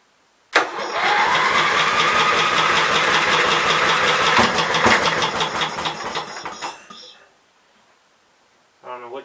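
A 16hp cast iron Briggs & Stratton engine catches and runs with a loud, rough, rapidly knocking roar for about six seconds, then dies away, followed by a brief voice.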